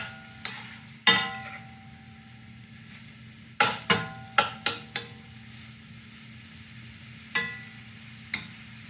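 Italian sausage cooks in a big skillet under a faint, steady sizzle, broken by sharp scattered clacks and scrapes of a utensil pressing and breaking up the meat against the pan.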